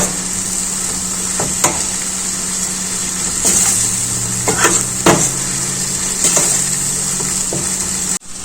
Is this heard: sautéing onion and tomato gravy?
yes